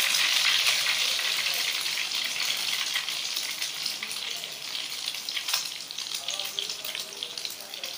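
Sweet bread slices fry in a pan with a continuous bright hiss and crackle, loud at first and easing slightly over the stretch.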